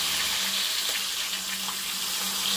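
Water is poured into a hot wok while mushrooms and chives stir-fry, a continuous hissing, bubbling sizzle that stays loud and close with no speech.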